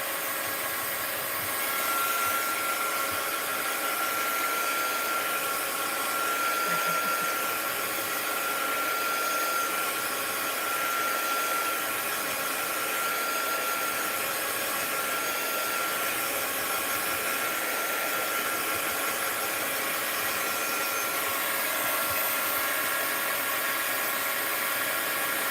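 A hair dryer runs steadily and close for the whole stretch, a continuous airy whoosh with a faint whine, drying Elmer's school glue on a paper collage artwork.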